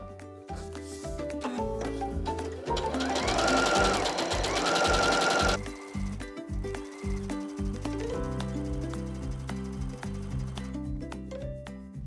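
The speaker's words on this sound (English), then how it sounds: "I'm going to sew right on that line between section 2 and 3 this time" Sewing machine stitching quilt fabric pieces for a bunny quilt block, sewing along a paper pattern line in a rhythmic series of short stitching bursts, with a longer, louder continuous run in the middle.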